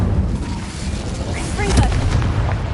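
Incendio fire spell in Hogwarts Legacy, a loud whooshing, booming blast of flame layered with rumbling game combat effects, continuous and close.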